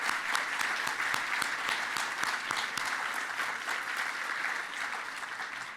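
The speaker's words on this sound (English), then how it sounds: "let's give a round of applause to the staff of the NCLEJ" An awards-program audience gives the NCLEJ staff a steady, sustained round of applause, many hands clapping together at a moderate, somewhat distant level with no talk over it.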